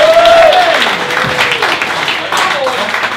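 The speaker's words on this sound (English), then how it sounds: "So Mr. Bouncer, if you can start the applause this end of the room." Audience in a brewery comedy venue applauding to welcome a comedian to the stage, loud dense clapping and crowd noise with whoops and a voice calling out over it.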